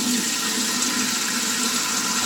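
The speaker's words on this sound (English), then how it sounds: "I'm also going to add some water to my face." Water splashed onto the face during a wet shave with a badger-hair brush, a steady close rush of running and splashing water filling the whole short moment with no talk.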